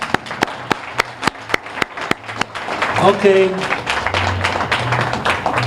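Audience applause at an awards dinner: a few people clap in a steady, evenly spaced rhythm, then the clapping thins under a voice speaking close by.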